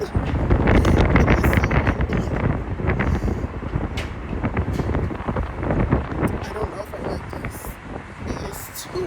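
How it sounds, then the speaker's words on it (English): Strong wind gusts buffet the microphone outdoors in Dallas in a loud, continuous roar with rumbling bursts throughout. "it's hella windy"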